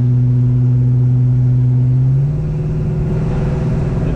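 A 1970 Pontiac LeMans V8 convertible cruising with the top down, its loud, steady low engine drone shifting pitch partway through as it pulls along.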